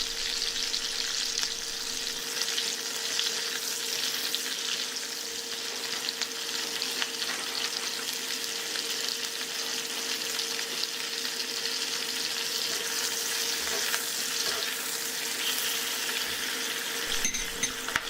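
Onion slices and garlic fry in a pan for a Chinese chicken and cashew dish, a continuous close sizzle with faint stirring scrapes and a steady low hum throughout.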